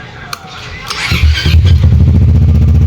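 A Zontes 400 motorcycle with a newly installed two-way alarm starts up: a brief chirp and starter whir, then the engine catches into a loud, close, steady idle thrum.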